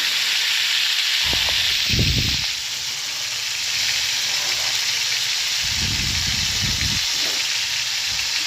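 Fish fry in a pan with a constant loud sizzle and hiss, broken by a few lower scraping, stirring bursts as the pieces are moved and turned, close and continuous.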